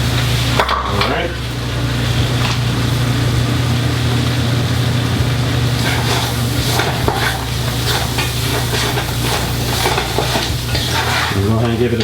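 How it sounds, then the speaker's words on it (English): Green peppers, yellow peppers and celery sizzle steadily in a pot for seafood gumbo while a utensil stirs them, with scraping clatters against the pot over a constant loud frying hiss. "we're going to go ahead and give these a stir, all these veggies a stir"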